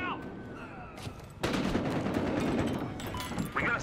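Sniper fire and gunfire in the video game Battlefield Hardline on The Docks map, with broadband shot bursts at about 1 and 1.4 seconds and a dense, loud stretch of firing and action after that, partly under voices.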